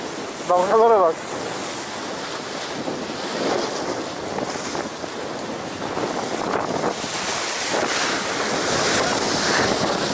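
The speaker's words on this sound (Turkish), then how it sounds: "Dalgalara bak." Sea waves wash and surge at the shore in Bursa, a steady rushing roar with gusts of wind buffeting the microphone, and a brief voice near the start.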